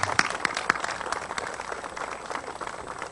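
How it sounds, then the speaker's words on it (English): Audience applauding at an outdoor Philadelphia Police Mounted Unit horse trailer dedication ceremony, a steady round of clapping with some sharper nearby claps throughout. "everybody here should give these men and women a great big round of applause"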